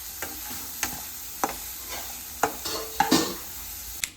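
Onion and cabbage stir-fry in oil for noodles, a soft continuous sizzle broken by irregular sharp clacks and scrapes of a spatula against the pan, close and fairly quiet, with no talking.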